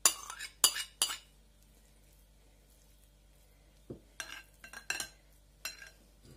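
Grated boiled eggs being spooned onto a sprat salad: a few light clinks and scrapes of a spoon against a dish, scattered and fairly faint, with quiet pauses between them.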